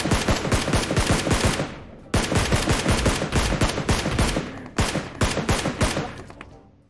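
Rapid automatic gunfire in the mobile battle royale PUBG Mobile, three loud sustained bursts of close-range shots separated by short pauses, with no talking.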